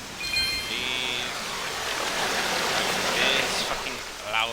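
Loud, steady rushing water roars without a break in the video game Shiny the Firefly, a dense wash of noise that swells slightly near the end, with a voice heard faintly over it.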